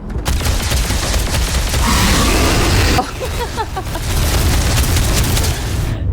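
Heavy booming shotgun blasts in the video game Starfield, loud and close, with a dense burst of fire before a brief drop and further shots and action noise after.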